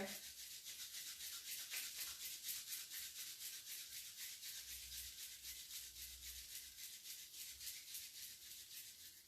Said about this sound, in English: begin to rub your palms together